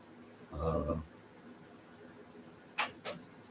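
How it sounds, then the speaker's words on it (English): Creaking from near a large-screen TV indoors: two short, sharp creaks close together near the end, after a brief lower-pitched groan or voice-like sound earlier. "Lou, did you guys just hear that creaking over there by my TV"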